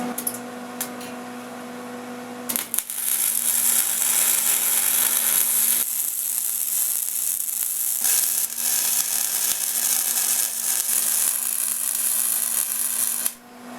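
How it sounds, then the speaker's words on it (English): Welding supports onto a racing mower frame, a loud continuous crackling sizzle of the arc that starts after a brief hum and runs nearly unbroken until it cuts off at the end. "we're gonna go ahead and weld these suckers all the way in now"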